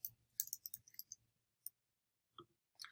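Computer keyboard typing, a burst of quick light key clicks followed by a few isolated taps after a pause, close and quiet.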